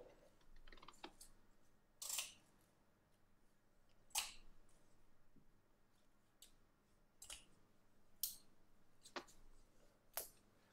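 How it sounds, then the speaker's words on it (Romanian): Scissors snip a label off a Bendy Funko plush toy, giving several sharp, quiet cuts spaced a second or two apart over a hushed room. "Hai să tăiem și pe asta."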